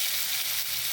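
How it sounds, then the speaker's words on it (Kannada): Jackfruit pieces frying in ghee give a steady, fairly quiet hiss and crackle of fat that runs evenly from start to finish with no voices over it. "ಹಲಸಿನ ತೊಳೆಗಳನ್ನು ಹೀಗೆ ತುಪ್ಪದಲ್ಲಿ ಫ್ರೈ ಮಾಡಿಕೊಳ್ಳೋಣ."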